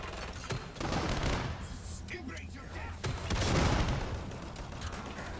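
A grenade pistol fires in Killing Floor 2, with sharp blasts and rumbling explosions, most prominent near the start and again around the middle, set against constant gameplay gunfire and a voice speaking over it.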